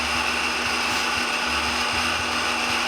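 Electric power planer running steadily on pallet boards, a loud continuous high whine with rhythmic low thumps as the cutter bites into the wood, close up with no talk.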